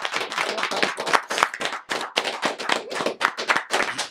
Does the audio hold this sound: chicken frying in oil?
no